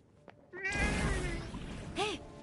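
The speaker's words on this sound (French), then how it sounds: "Hey, ce chat. Ça m'a fait peur" Cat meowing in the PS5 action game Forspoken: a faint, close meow rises out of a rushing ambient background, followed about a second later by a second short, rising meow.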